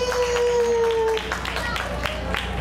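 An outdoor crowd at a 2013 remote-islands fair in Naha, Okinawa, claps to vote for a mascot; after a sustained tone at the start, scattered handclaps from a modest audience follow, sparse and moderately loud.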